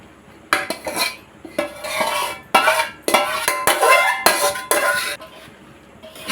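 Fried chicken is tipped into a pan and stirred for chicken pachadi, with repeated scraping and clinking of a metal spoon against the pan in uneven bursts close to the microphone.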